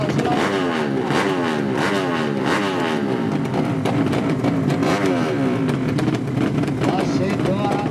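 Tuned 200cc racing motorcycles scream around a circuit in Sulawesi, Indonesia, with repeated rising and falling revs as bikes pass through gears, loud and steady throughout.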